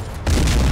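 Grenade explosion in the war strategy game Men of War: Assault Squad, a single short, loud low boom that hits suddenly and rumbles briefly.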